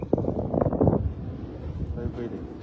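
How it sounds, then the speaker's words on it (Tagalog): Strong wind rumbles and buffets the microphone outdoors by a river at night during crab catching, loudest at first and then settling into a lower gusty roar. "Lumakas yung hangin."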